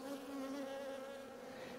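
Honeybees buzzing at a hive in an untreated apiary during overwintering, a steady, fairly faint droning hum from many bees with no talking.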